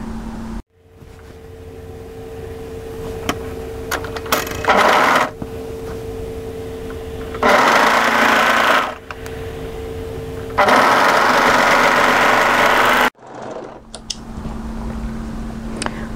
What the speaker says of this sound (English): And overlock that seam.